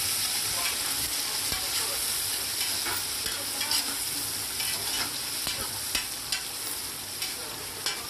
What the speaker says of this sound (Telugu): పసుపు యాడ్ చేసుకొని మొత్తం కలుపుకోవాలి